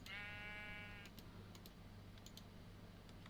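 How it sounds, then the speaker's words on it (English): Sheep bleating in the Minecraft video game, a single wavering bleat lasting about a second at the start, followed by soft rapid keyboard typing and clicks in a quiet room. "Come here, sheep."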